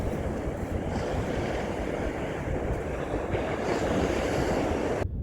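Steady, continuous wash of sea surf breaking on a beach in winter, a broad even roar with no distinct individual wave crashes, heard alone without any talking.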